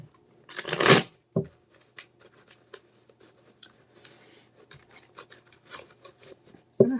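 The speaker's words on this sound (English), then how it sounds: "the cards don't want to shuffle" A deck of cards is riffled loudly in a quick burst, followed by softer scattered shuffling, rubbing and tapping, with a sharp snap near the end.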